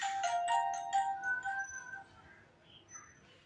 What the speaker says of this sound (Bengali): রাহুল ফোন করলো?